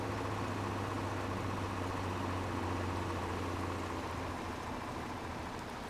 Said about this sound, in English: But this truck is actually pretty quick,